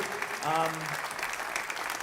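Steady applause from the audience at the final of the Predator WPA World 8-Ball Men's Championship 2023, with a voice speaking over the clapping throughout.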